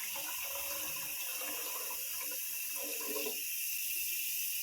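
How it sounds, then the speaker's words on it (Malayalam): Water pours steadily into a hot pan of fried carrots for biryani, a continuous hissing rush that eases off near the end, with no talking. "ഇതിലേക്ക് നമ്മൾ എടുത്ത് വെച്ചിട്ടുള്ള വെള്ളം ഒഴിച്ച് കൊടുക്കുക"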